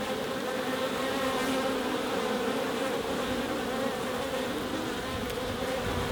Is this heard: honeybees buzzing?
yes